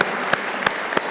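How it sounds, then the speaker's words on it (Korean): A church congregation on Easter Sunday claps in unison, giving three evenly spaced, strong beats over a steady roomy background. "부활하신 주님과 예수님을 다시 살리신 하나님께 영광과 찬양의 박수를 한번 올려드렸으면 좋겠습니다."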